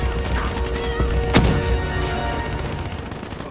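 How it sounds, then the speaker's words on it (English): Covering gunfire crackles in Call of Duty: Black Ops III, a dense ongoing battle din with one sharper close shot standing out, loud and continuous with no clear talk. "Give me some cover fire."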